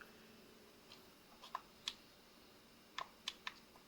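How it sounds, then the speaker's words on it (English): A Steam Deck LCD power button gives a handful of faint, sharp plastic clicks, spaced irregularly with a quick double near the end, over a quiet room. "as you can hear, I'm clicking the button here, but it is not turning on"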